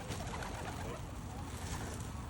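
Pigeons, with ducks around, feed on seed scattered across a floor, a dense close flutter and soft cooing that blends into a steady, noisy crowd of birds.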